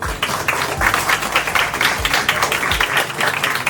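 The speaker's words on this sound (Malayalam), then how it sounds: "എല്ലാവരും നല്ലൊരു കൈയടി കൊടുക്കൂ." A crowd claps steadily at a company's fifth anniversary event, a dense patter of many hands filling the room, with a few low thumps underneath and no speech.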